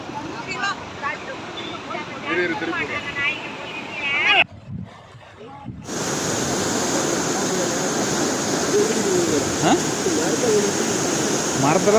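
Floodwater surges from the opened shutter of the Anaimaduvu dam: a steady, loud broadband rush that grows stronger after a brief pause. Voices talk over it throughout.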